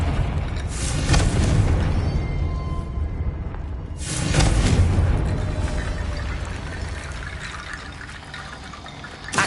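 Confringo spell explosion in the video game Hogwarts Legacy, two broad booming bursts several seconds apart over a watery, rumbling ambience, loud and close.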